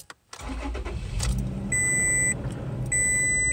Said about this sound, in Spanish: Voy a prender este motor